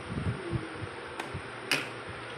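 A steady whirring hum from a refrigerator's small evaporator fan motor, with faint low thumps and a couple of sharp clicks, close up and quiet.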